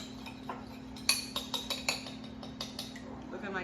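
A utensil whisks a lemon juice and olive oil dressing, producing a quick series of light metallic clinks against the bowl, fairly close, with a voice faintly present.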